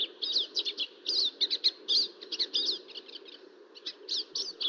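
Crossbill song, a mimic of other birds, rendered as rapid bursts of high chirps and trills with a raptor-like call woven in, fairly close and continuous over a steady low background hum.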